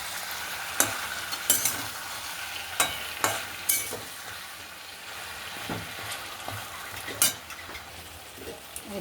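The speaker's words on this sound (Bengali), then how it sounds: "নেড়ে দিচ্ছি।" A spoon stirs food frying in a pan seasoned with black pepper, sharp scraping clinks at irregular intervals over a steady, soft sizzle, close up with no talking.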